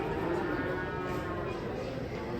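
A cow lowing while being unloaded from a truck, a sustained moo heard amid crowd noise and voices, loud and continuous throughout.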